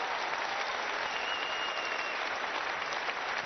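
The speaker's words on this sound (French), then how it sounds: "Let's put our hands together for Jesus Christ." An audience at a church service applauds together, a dense, even wash of clapping that holds steady throughout with no breaks, moderately close.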